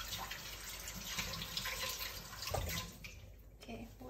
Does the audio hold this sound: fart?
no